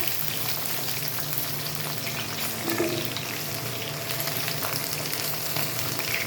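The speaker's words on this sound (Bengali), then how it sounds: "আলু পটলটা মোটামুটি হালকা লাল করে ভেজে নেব।" Steady, close sizzling and crackling of potatoes and pointed gourd frying in hot oil, with a faint clatter partway through.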